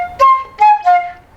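Solo flute plays three short sustained notes with clear harmonics, each separated by brief gaps, close and unaccompanied, a melodic phrase in a tutorial rhythm.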